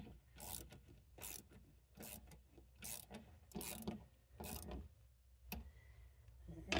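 A ratchet snugs fuel pump assembly bolts on a 2000 Chevy Tracker with about seven evenly spaced, rasping clicking strokes, close and clear, followed by a short final click.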